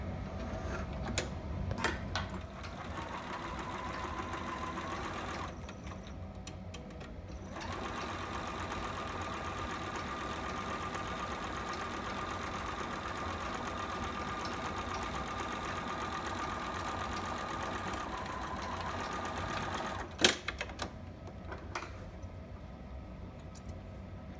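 A sewing machine stitches steadily through fabric for a Brynlee two-piece sitter pattern, with a brief pause near five seconds and a few sharp clicks around twenty seconds, close and continuous with no talk.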